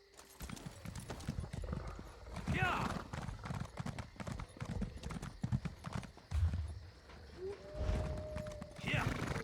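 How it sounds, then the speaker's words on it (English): Horse hooves clip-clop in a steady galloping rhythm while riding in the video game The Elder Scrolls Online, running close and loud throughout with someone talking over it and a brief whinny near the end. "My horse is sprinting and she keeps up."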